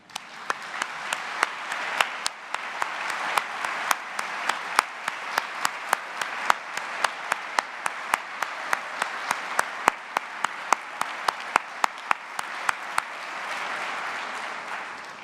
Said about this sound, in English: you equally deserve that applause